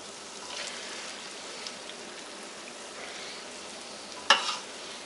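Bacon sizzles quietly in a pan as it is pushed aside to render out its grease, a steady soft crackle with one sharp clatter near the end.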